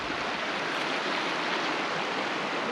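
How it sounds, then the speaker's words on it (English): Styx River in New England, NSW, rushing past a riverside campsite on a big river flat, a steady broad wash of flowing water with no voices. "This is the Styx River."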